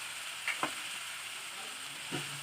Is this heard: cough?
no